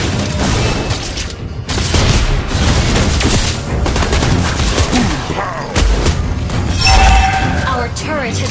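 Explosions and gunfire from a turret being destroyed in the mobile battle game Bang Bang (Mobile Legends), a dense, loud barrage of booms and shots running continuously with game voice and effects layered over it.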